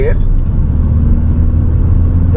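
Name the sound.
car engine accelerating through third gear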